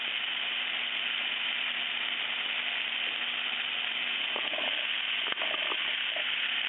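Mushrooms and green onions fry in a pan for venison marsala, giving a steady, even sizzle throughout with a few faint clinks of a utensil near the end.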